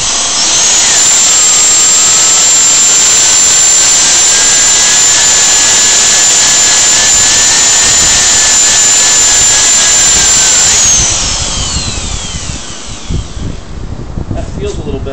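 A power sander with 4000 grit works a plastic headlight lens, a loud, steady high-pitched whine that holds for about eleven seconds, then spins down and fades.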